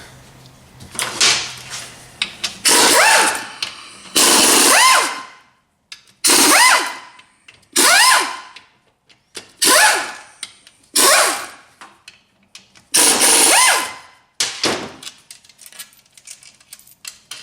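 A power tool runs in short, loud bursts, about eight close whirring spins with pauses between, as it backs out the 10mm head bolts holding the pump on a 4R70 automatic transmission, with no talking.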